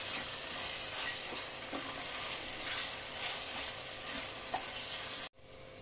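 Spices with ginger-garlic paste and green chilli stir-fry in hot oil for chicken pulao, giving a continuous moderate sizzle with soft scraping stirs, then a sudden cutoff near the end, with no voices.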